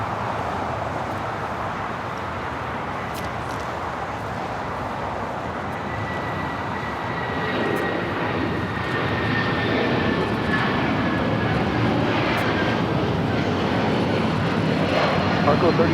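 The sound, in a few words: United Airlines Boeing 757-300 taking off at LAX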